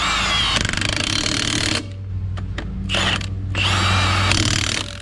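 Milwaukee impact wrench tightening the lug nuts on a remounted tire, delivering loud rattling hammer bursts with a short pause and a few brief clatters between the runs.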